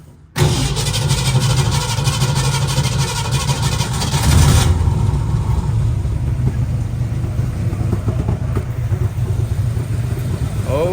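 A 1965 Ford Mustang with a 289 V8 fires up and settles into a steady, loud idle, with a brief rev partway through before the engine evens out again, running continuously up close.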